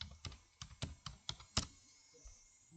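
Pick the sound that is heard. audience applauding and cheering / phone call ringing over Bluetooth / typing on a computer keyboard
typing on a computer keyboard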